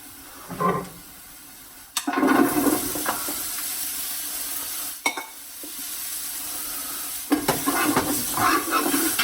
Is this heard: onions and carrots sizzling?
yes